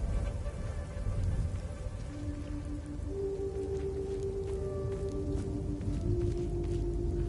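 Steady rain in the video game Hell Is Us, a continuous soft patter on surfaces beneath low ambient drones and faint tonal game sounds, with no talking.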